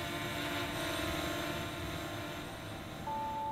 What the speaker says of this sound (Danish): På den mørke nattehimmel over Københavns Nordhavn flyver en drone.